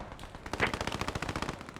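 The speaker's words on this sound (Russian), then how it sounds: "Меня пулемет срезал." Rapid machine gun fire in the WWII shooter game Post Scriptum, a dense burst of closely spaced shots rattling in a fast even rhythm for nearly two seconds, loud and near with no speech.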